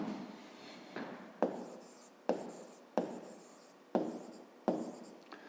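A pen writes by hand in a notebook during a fifth-grade math exercise, about eight short scratchy strokes in an even rhythm, each starting sharply and fading, close and quiet with no talking.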